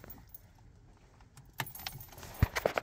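Keys jangle and click in the ignition of a 2006 PT Cruiser that fails to start, a quiet rustle followed by sharper metallic clinks and knocks close by, growing louder toward the end.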